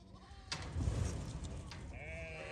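A sheep bleats loudly nearby on a farm, a wavering cry lasting over a second, followed by a higher, thinner bleat starting as the first fades.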